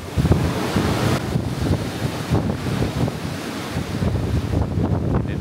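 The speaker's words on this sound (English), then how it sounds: "Sorry for the wind." Wind buffets the microphone on the open deck of the cruise ship Celebrity Summit on a cold, overcast day at sea in rough water, a loud continuous rumbling roar with gusty swells and no talk.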